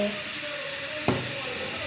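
A steady hiss of cotton-seed milk boiling in a pot, with a brief low bubbling burst near the middle; no voices.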